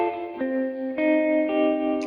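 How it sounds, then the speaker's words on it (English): A guitar recorded through a full amp cabinet with effects and reverb, playing a few sustained chords struck roughly every half second, each ringing out with a shimmering, echoing tail. "I've been given a full cabinet sound that's got a certain amount of effect and what have you on it."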